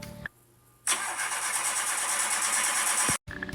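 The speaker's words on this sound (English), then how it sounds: "I'm pretty sure my engine's overheating too. It's making all kinds of weird noises." An overheating truck engine fires up with a sudden loud, rough roar that holds steady for about two seconds and then cuts off abruptly; no one speaks.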